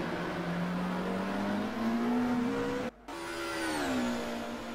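Touring race cars, a Ford Sierra and an Alfa Romeo, scream past on a circuit, a sustained high engine whine rising and falling through the gears, with a brief cut before the note returns and fades.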